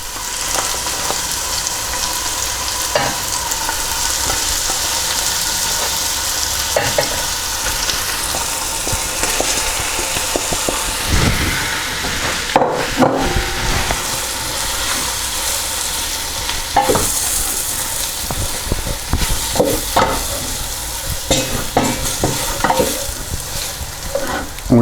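Beef chunks frying with softened, broken-down onions in a pot for Hungarian goulash, a steady loud sizzle running throughout with repeated scraping stirs and clacks of the spoon against the pan, no talking.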